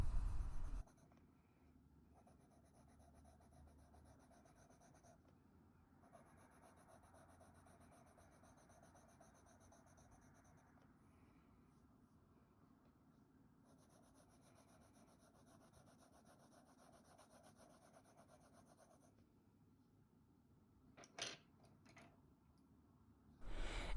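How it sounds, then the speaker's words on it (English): Burgundy brown colored pencil stroked over paper while drawing a goose, giving a soft, continuous scratchy rasp with brief pauses between strokes, quiet and close, without speech. "enrich the body color with the strokes using a burgundy"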